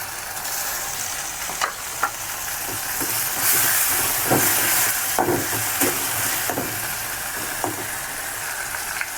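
Ginger paste, onion paste and tomato sizzle and fry steadily in a hot pan, a constant bright hiss with occasional soft knocks of stirring, close and alone with no talking.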